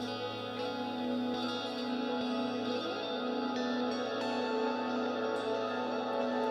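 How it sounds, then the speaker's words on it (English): A guitar patch with a heavy echo effect rings out in a studio, its layered repeats sustaining in a dense, steady wash that holds fairly loud throughout with no talking. "we're gonna kill the echo here in a bit once it fades out"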